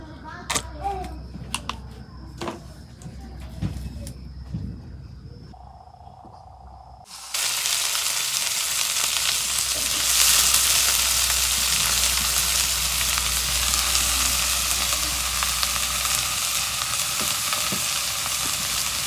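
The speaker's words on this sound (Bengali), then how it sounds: "কড়াই গরম হয়েছে, এখন আমি সরষের তেল দিয়ে দিব।" Mustard oil sizzles loudly and steadily in a hot wok on a clay stove after a few clinks and kitchen noises, a continuous crackling hiss.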